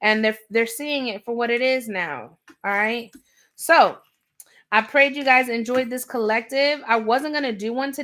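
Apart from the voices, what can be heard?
No everyday noises stand out.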